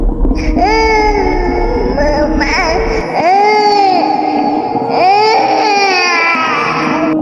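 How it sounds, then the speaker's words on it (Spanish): Loud childlike crying for a horror story: a high, wailing infant-like sob rises and falls in long drawn-out bursts, close and continuous. "Un lloriqueo fuerte, infantil, se escuchaba en el aire."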